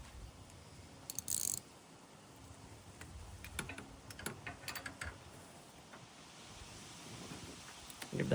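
A socket wrench ratchets in short, faint bursts of clicks while it turns an upstream driver-side O2 sensor on a Jeep JK. It sounds close, with pauses between turns and a quiet, slightly noisy background.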